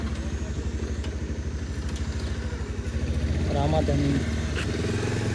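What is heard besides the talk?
motorcycle engine running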